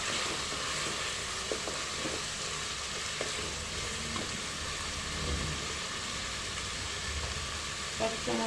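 Onion and garlic fry in a pan for a beef curry with turmeric, a soft, steady sizzle with occasional light stirring clicks, quiet and continuous.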